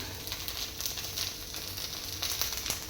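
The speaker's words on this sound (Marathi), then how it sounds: "मी या ठिकाणी डोसे बनवतोय" A dosa sizzles on a hot pan in a home kitchen, a soft continuous frying hiss with small crackles, close but fairly quiet, with no one speaking.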